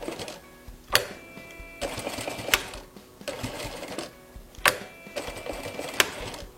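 A sewing machine stitches back and forth across a small fabric basket in short bursts of rapid mechanical chatter, separated by sharp clicks and brief pauses, fairly quiet and close.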